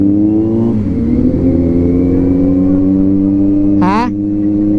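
A Kawasaki Z900 motorcycle engine holds a steady, close drone with a brief dip and a short sharp rev near the end, with talk heard over the engine.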